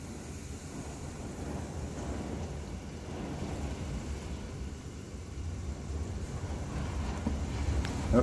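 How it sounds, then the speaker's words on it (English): Hurricane Sally wind and rain roar steadily outdoors over grass, a dense, continuous rush that builds slightly toward the end, with no talk. "Look at the grass and the rain blowing off of it."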